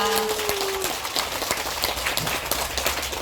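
Clapping from a crowd at an outdoor Won Buddhist bazaar opening, a dense wash of claps under continuous background noise, with a brief tonal sound at the start.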